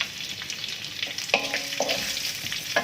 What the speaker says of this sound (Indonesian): saya akan masukkan cabai